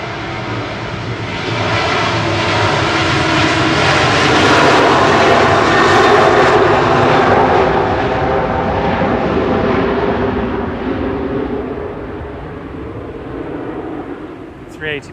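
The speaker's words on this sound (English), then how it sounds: "Ryanair on the roll" A Ryanair jet airliner on its takeoff roll at Manchester Airport, a loud, broad engine roar that swells over several seconds and then slowly fades as it moves away, with faint voices in the background.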